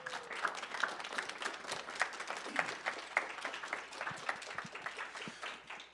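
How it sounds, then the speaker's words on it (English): Audience applause for the presenters at a classical music symposium: steady, dense clapping from a medium-sized crowd, sustained and even throughout without any talking over it. "How about another round of applause for all of our presenters?"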